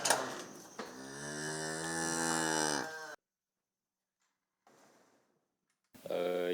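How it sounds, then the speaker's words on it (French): Dairy cows on a farm moo loudly: one long, drawn-out, nearby moo lasting about two seconds, then near silence with faint rustling before another animal sound starts. "Les autres vaches, comme Naomi, attendent leur tour."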